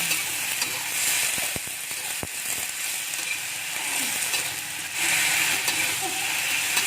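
Mushrooms fry in a pan for a spicy sweet-soy dish, giving a loud, steady sizzle throughout, broken by a few scraping knocks as a utensil stirs them close by.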